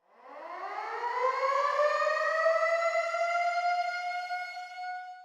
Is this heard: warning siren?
yes